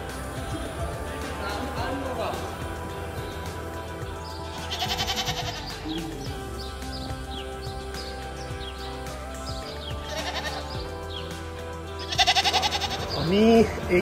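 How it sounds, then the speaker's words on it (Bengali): Goats bleat at a livestock market where animals are being bought for Qurbani at Eid ul-Adha, a few calls rising over steady crowd chatter and background noise, with louder bleats near the end. "আমি এই খাসিটা চুজ করলাম"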